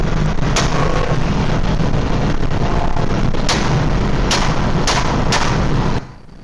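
Police officer firing a service weapon at a car's wheels during a street pursuit in Vladimir region, several sharp, loud gunshots spaced irregularly over steady engine and road noise, ending in sudden quiet.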